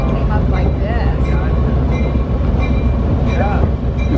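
An old historic train rumbles through a tunnel, a loud, enclosed low roar with rhythmic clacking of wheels and occasional faint metallic squeals, continuous and close, with a voice briefly audible over it.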